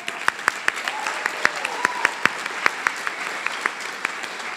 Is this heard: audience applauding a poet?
yes